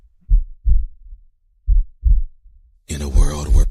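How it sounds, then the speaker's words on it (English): A heartbeat sound effect gives two close pairs of deep, loud thumps in a slow rhythm. A person then starts talking. "Cue the heartbeat."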